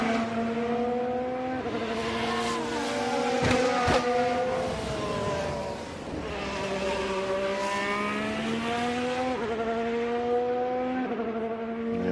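F1 race car engines in F1 Manager 23 at Yas Marina scream at high pitch, with several cars howling and shifting gears as they run close together, their whines rising and falling steadily throughout.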